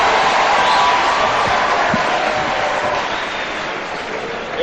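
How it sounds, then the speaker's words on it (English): Broad, sustained audience applause with some cheering at a formal event in Kenya honoring a young narrative writer, loud at first and gradually easing off toward the end. "Another round of applause for Otonglo Tai."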